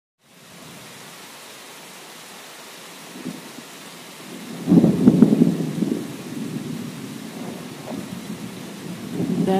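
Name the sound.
heavy rain and thunderstorm, from a cartoon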